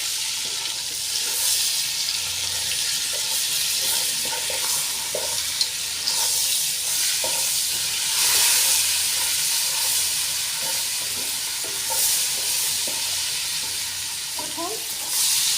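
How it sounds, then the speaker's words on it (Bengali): Shrimp frying in hot oil with salt, turmeric, cumin and chili, a steady close sizzle with faint stirring clicks and no talk throughout. "লবণ, হলুদ, জিরা মরিচ দিয়ে চিংড়িটা ভেজে নিচ্ছি তেলের মধ্যে।"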